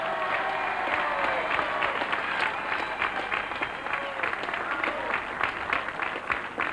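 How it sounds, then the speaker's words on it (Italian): An audience at a fishing World Cup award ceremony in Italy claps in sustained, dense applause, with many hands sounding at once, while a voice speaks over it. "Un grande applauso!"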